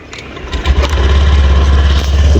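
A vehicle engine cold-starts at home, the starter catching into a loud, close, steady low rumble that settles into a rough idle for the rest of the moment.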